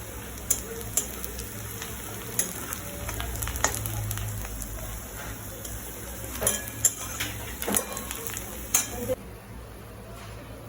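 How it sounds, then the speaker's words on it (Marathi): Onion frying in a pan, a steady low sizzle running throughout with occasional clinks and scrapes of a utensil on the pan, heard without speech. "इथे बघ आपला कांदा सुद्धा मस्त फ्राय होत आला"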